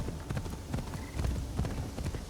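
A horse's hooves clip-clop at a steady walking rhythm in the video game Assassin's Creed Shadows, moderately loud and close with a faint background ambience.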